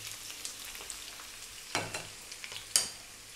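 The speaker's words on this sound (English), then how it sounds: "sliced onions, in they go." Sliced onions frying in reduced oil give a steady crackling sizzle, with a few louder bursts of spitting and stirring scrapes, close up and without talk.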